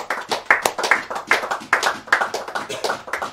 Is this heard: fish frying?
no